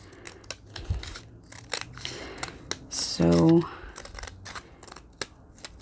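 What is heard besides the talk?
scissors cutting along paper edge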